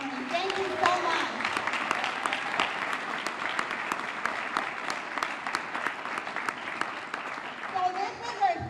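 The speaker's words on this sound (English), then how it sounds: "I wanted to give these brave men and women a big round of applause for" An audience gives firefighters a warm round of applause at a girls camp event, steady clapping of a modest crowd lasting several seconds, fairly close.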